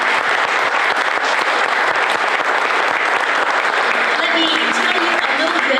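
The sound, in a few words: audience applause for festival queen and runner-up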